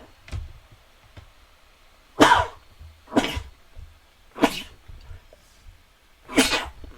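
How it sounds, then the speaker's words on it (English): A person sneezes several times in a row, close and loud, with sharp bursts spaced about a second apart and quiet breathing between them. "I'm gonna sneeze."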